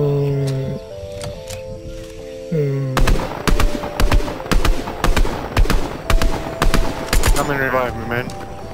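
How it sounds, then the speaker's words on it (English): Gunfire in a Fortnite battle, a rapid run of loud sharp shots in quick rhythmic bursts following a tonal electronic game sound, close and dominant. "He's shooting at me."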